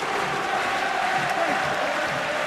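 A rugby stadium crowd at a Toulon versus Clermont Top 14 match, steady roar of cheering and applause held at a constant, moderately distant level for a couple of seconds.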